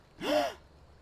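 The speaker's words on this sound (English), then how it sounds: "Did something cause you to gasp, Ellie?" A single short, sharp gasp from a video game character, close and clear against quiet background.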